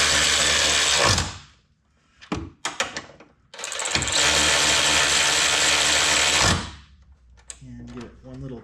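A ratchet tightens bolts on a Nissan Z Nismo brace, giving bursts of rapid close clicking separated by short pauses, with a voice speaking briefly near the end.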